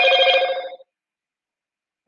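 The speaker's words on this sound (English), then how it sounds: "Excuse the noise. That's my phone." A mobile phone rings loudly and close by with one bright electronic trill burst that stops abruptly, followed by a brief faint click and then silence.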